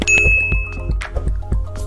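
A bright notification bell dings once with a clear ringing tone over soft music, followed by a few quieter chime accents.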